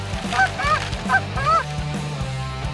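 A flock of geese honks loudly and close by during a snowy goose hunt, with several overlapping nasal calls rising and falling over a low steady rumble.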